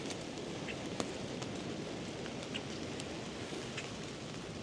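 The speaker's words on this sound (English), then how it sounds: "because it is raining" Steady rain falls on the end of a fishing pier, a continuous even hiss with scattered individual drop taps and no talking.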